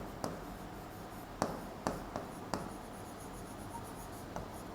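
A pen scratches on paper in short, faint strokes, a few taps and scribbles spread unevenly over steady background hiss.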